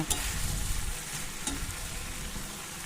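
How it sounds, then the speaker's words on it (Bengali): Onion stalks, potato and small mourala fish cooking in a pan, a soft steady sizzle with a few brief stirring scrapes near the start, fairly quiet and close. "আবার একটু নাড়াচাড়া করে আমি আবার এটাকে চাপা দিয়ে দেব।"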